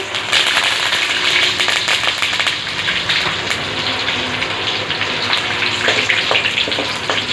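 Mustard seeds and curry leaves frying in hot oil for a fish curry, giving a steady, loud, close hiss of sizzling with dense crackle and small pops throughout, no voices.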